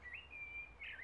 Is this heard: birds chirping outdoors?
yes